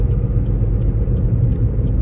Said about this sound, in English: Just hearing the engine, hearing the exhaust